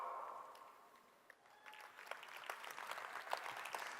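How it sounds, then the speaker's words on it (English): An audience at a conference summit breaks into applause, starting faint and swelling into a steady patter of many hands clapping at moderate distance. "Give him a round of applause"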